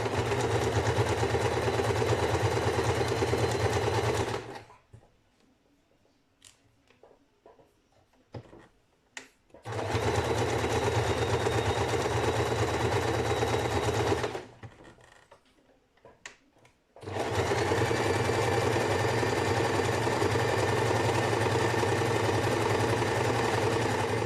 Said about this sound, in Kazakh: Қарапайым түзу тігіспен жүргізіп шығамыз.